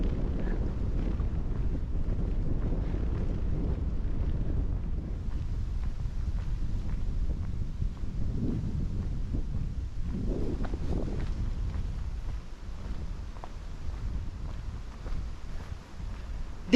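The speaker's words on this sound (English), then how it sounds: "So windy." Strong, cold wind buffets the microphone outdoors on the Tokai Nature Trail in Japan, a steady low rumble with gusty swells throughout and no talk.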